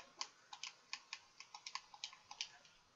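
Keys tapped on a computer keyboard as a player name is entered, about fifteen quick, light clicks in an uneven rhythm, close and clear against a quiet background.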